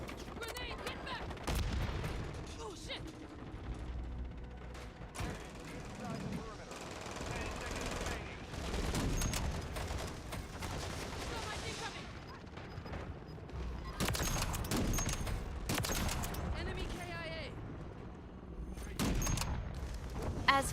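Rapid bursts of sniper rifle fire in a Call of Duty match, shots fired in quick succession like a submachine gun, loud and repeated across the whole stretch with dense game action behind them.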